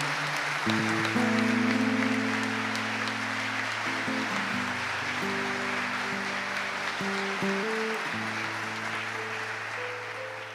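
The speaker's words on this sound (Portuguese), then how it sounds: "Vamos aplaudir a palavra." A church congregation claps steadily throughout, the applause a dense, even wash mixed with sustained keyboard or organ chords playing alongside, with no speech.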